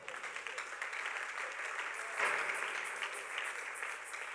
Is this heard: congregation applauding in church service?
yes